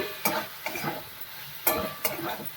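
Potato masala curry with torn bay leaves being stirred in a pan, a faint sizzle broken by four sharp scraping strokes of the spoon against the metal, spaced unevenly.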